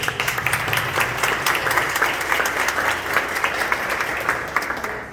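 A crowd applauds steadily, a dense patter of many hands clapping at once that carries on without a break, with no one speaking over it.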